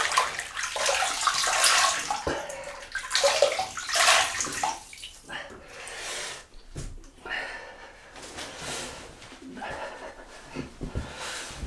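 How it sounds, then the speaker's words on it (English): Water from a running tap splashes and sloshes over hands and face while wetting up before a shave, close and fairly loud, with a bird cooing faintly in the background. "I'm going to wet the face."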